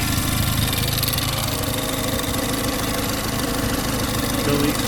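A turbocharged car engine idles steadily after starting, a loud, continuous rough rumble with a knocking edge, heard close up with a voice talking over it.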